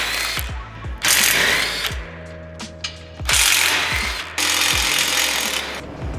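A power tool, likely an impact driver, removes M10 roof bolts from a Kubota RTV X1140 utility vehicle in several loud, close bursts with short pauses between them.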